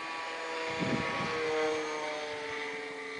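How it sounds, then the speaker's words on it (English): An electric RC combat airplane makes a flyby, its steady propeller whine and motor tone swelling slightly as it passes nearby, then holding at a constant level against light background noise. "I gotta do a flyby, see if my battery's going low."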